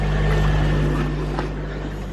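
A pond pump runs with water pouring from a Bakki shower spray bar, giving a constant close rushing, splashing wash over a low steady hum.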